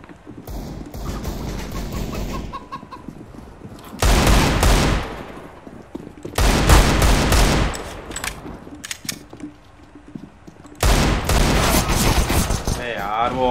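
Loud bursts of automatic gunfire from an auto sniper in Counter-Strike: Global Offensive come in three or four long volleys separated by quieter gaps, with a player talking in between.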